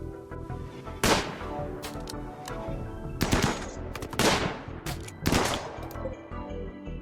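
Sniper rifle gunfire in the video game RimWorld, with three or four sharp, loud shots spaced about a second apart over a steady bed of background game noise.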